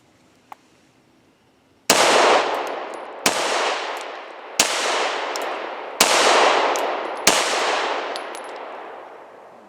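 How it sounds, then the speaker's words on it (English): Five sharp pistol shots fired one-handed at an outdoor range target, spaced about a second and a half apart, each loud crack trailing into a ringing decay after a quiet start. "draw 5 shots strong hand only on number 5"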